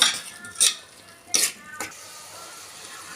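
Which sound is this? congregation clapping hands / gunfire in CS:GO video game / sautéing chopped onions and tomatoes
sautéing chopped onions and tomatoes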